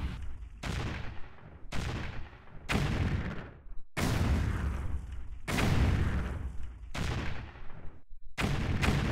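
Heavy artillery from self-propelled guns in a Stalingrad war game, a string of about seven loud booming blasts at uneven intervals, each with a long rumbling decay that runs into the next.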